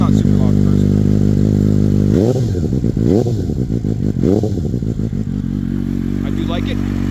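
A Suzuki GSX-S750 motorcycle fitted with an M4 slip-on exhaust idles loudly and close, then revs several times in quick blips before settling back to a steady idle, with a voice talking over the engine.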